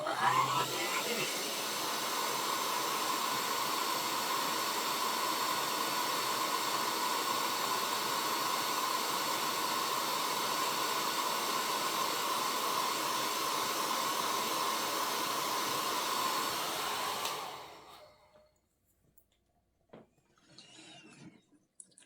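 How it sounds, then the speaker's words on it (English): A hair dryer blows on watercolour paint with a loud, steady close-up roar for about seventeen seconds, then cuts off into near silence with faint handling noises. "I'm going to give mine a whiz with a hairdryer."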